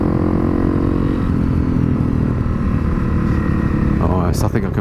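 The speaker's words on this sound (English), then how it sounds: "I don't want to annoy too much with my outrageous motorbike hooliganism" A Honda CRF250L motorbike rides along a forest track, its engine droning loudly and steadily up close, with a few brief voices and a rising rev near the end.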